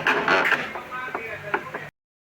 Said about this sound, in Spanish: Cuando el cliente reporta un ruido extraño en la lavadora,